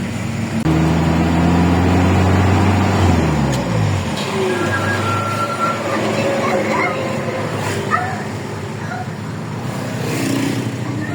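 A vehicle braking on a road near Hagonoy, Bulacan: a loud, close tonal whine that falls steadily in pitch over about four seconds, then gives way to rumbling road and traffic noise.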